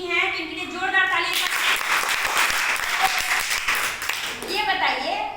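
At a children's quiz competition, the audience bursts into loud applause for a girl who won the round, the clapping swelling in after a voice and fading as someone speaks.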